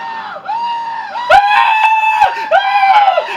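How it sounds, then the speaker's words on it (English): Several people scream together in loud, sustained, wavering cries that rise and fall, with a couple of short breaks and renewed bursts over a few seconds. "Everybody scream together!"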